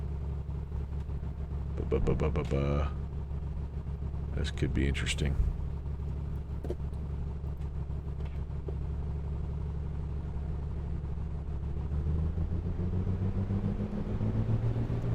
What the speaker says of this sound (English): you hear my engine chugging a little bit? I must have fouled the plugs.